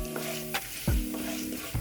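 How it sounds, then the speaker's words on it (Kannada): Oil sizzling in a pan while ingredients are fried until they turn red for an Uttar Karnataka carrot bhaji, with a steady close frying hiss, occasional stirring scrapes and faint tonal background hum, no talk. "ಈಗ ಇದು ಸ್ವಲ್ಪ ಕಲರ್ ಚೇಂಜ್ ಆಗೋ ಮಟ್ಟ, ಕೆಂಪಾಗೋ ಮಟ್ಟ ಹುರ್ಕೋತೀನಿ"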